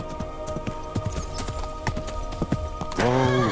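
Horse hooves clip-clop at a walking pace in Kingdom Come: Deliverance II, a steady run of distinct close knocks, ending in a loud neigh from the horse.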